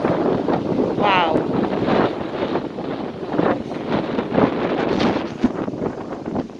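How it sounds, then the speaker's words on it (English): Strong wind on a hilltop in St. Lucia buffets the microphone in continuous rough gusts, with a faint voice and a brief whistle partly buried beneath the rumble. "It's windy up here."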